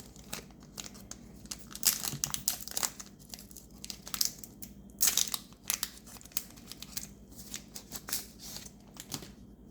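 A trading card booster pack wrapper from a booster box is fought open by hand, crinkling and tearing in close, quiet bursts of foil rustle and rips that come and go, with no talk.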